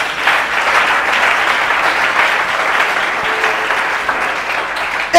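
A church congregation bursts into sustained applause, a dense, steady wash of clapping that holds loud and even for several seconds without a break.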